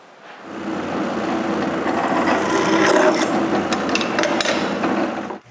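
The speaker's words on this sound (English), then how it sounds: "I need to drill new holes." A drill on an X-Carve shelf grinds steadily into wood at close range, a loud, continuous whirring and scraping with a few sharp clicks near the end.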